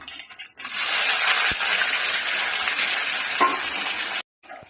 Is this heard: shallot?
yes